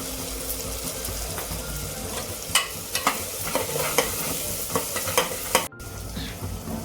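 Ground masala with turmeric roasting in a pan for Lima bean spiced rice, a steady sizzle under repeated sharp scrapes and clinks of a spoon stirring, close and moderately loud, no voices.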